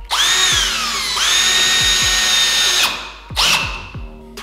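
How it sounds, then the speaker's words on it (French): A power drill drives screws into a timber wall being reinforced for a workshop glass partition, with two long whining bursts that rise in pitch as each spins up and a shorter third run, loud and close. "je vais visser là déjà"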